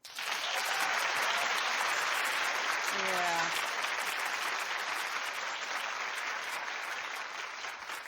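A studio audience at a daytime talk show breaks into loud, sustained clapping and cheering that holds steady for several seconds, with a brief voice heard over it.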